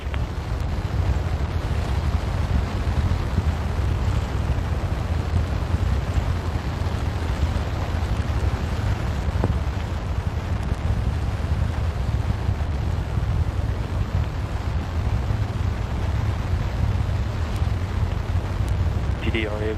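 Artemis moon rocket engines roar through a hot fire test in a broad, sustained, distant rumble, steady and unbroken, with wind-like buffeting throughout.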